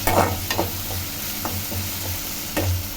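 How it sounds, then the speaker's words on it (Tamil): Onions and tomatoes sauté in a pan for a dosa masala, with a soft steady sizzle under repeated scraping stirs of a spatula, several short strokes spread across the moment. "வெங்காயம் தக்காளி நல்லா வதவிடுச்சு"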